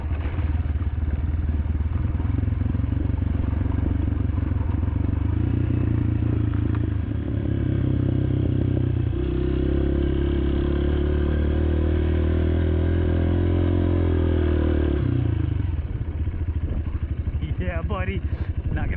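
Off-road motorcycle riding through a sand wash during a Gorman race, its engine droning loud and close the whole time with shifting pitch and clattering, plus wind buffeting the onboard microphone.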